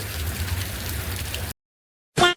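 Rain falls in a steady, fairly loud hiss for about a second and a half, then stops abruptly; after a short silence, a brief louder burst follows.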